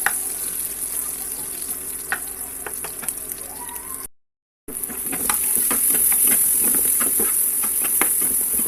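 Onion, garlic and dried chili fry in hot oil, a loud, continuous sizzle and hiss with scattered crackles and stirring scrapes, briefly cut to silence midway then resuming louder.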